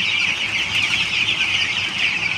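Dense flock of broiler chickens on a farm, a continuous high chorus of overlapping clucks and cheeps filling the space, steady and fairly loud with no voices.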